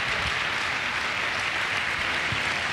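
Audience applause at a personal testimony talk, steady dense clapping filling the whole moment at close range.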